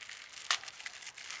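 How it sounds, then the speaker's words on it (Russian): A sealed plastic packet from a talking doll's toy set is torn open with one sharp ripping burst, surrounded by soft crinkling and rustling of the plastic, close and fairly quiet. "Ляш, давай мы его распечатаем."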